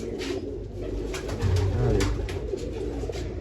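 Pigeons coo nearby in soft, repeated throaty calls over a low murmur of background noise.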